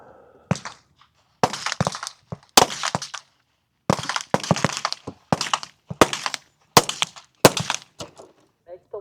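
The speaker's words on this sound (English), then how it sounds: "Ready on the firing line. Commence firing." Rifle shots on a precision shooting range at Camp Perry, a string of loud, sharp cracks fired in irregular bursts, some close together and others spaced apart, with short quiet gaps between them.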